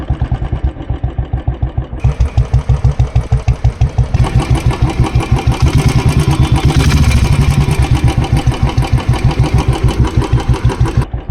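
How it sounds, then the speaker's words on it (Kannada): Royal Enfield Classic 350 Bullet single-cylinder engine idling while stationary, a steady, loud, evenly spaced thump-thump beat that carries right through, close up and alone with no talking. "ಸೊ ಈ ಗಾಡಿನಲ್ಲಿ ಬರೋವಂಥ ತಂಪು ನೋಡಿ ಯಾವ ಥರ ಇದೆ ಅಂತ ನಾನು ಸೈಲೆಂಟ್ ಆಗ್ತೀನಿ"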